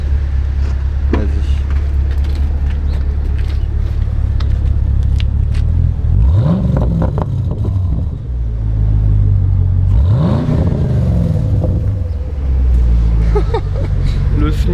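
A Chevrolet Camaro SS with a 6.2-litre V8 sits idling in a deep, steady rumble, then is revved twice with rising and falling swells, close by. People talk over it.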